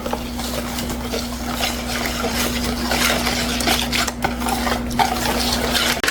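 A spoon stirs kimchi seasoning with chili powder in a bowl, making continuous soft scraping and clinking against a steady low hum.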